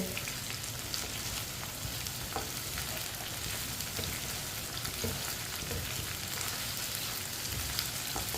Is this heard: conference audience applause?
no